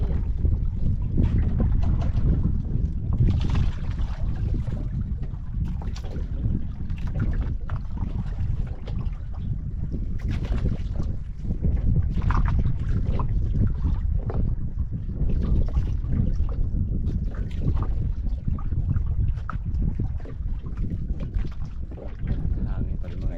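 Strong wind roars and buffets continuously, a heavy rumbling rush close up with gusts rising and falling throughout.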